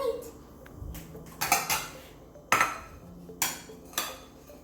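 Dishes and cutlery clink and clatter as cheesy ham tortellini with corn is plated, giving several sharp knocks spaced a second or so apart over a quiet background.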